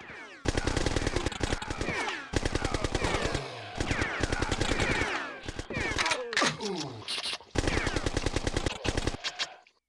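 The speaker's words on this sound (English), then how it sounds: "Now I'm being shot from over here" Gunfire in the video game Bad Day L.A. comes as rapid automatic bursts and repeated shots across the whole stretch, loud and dense, with a voice talking over the shooting.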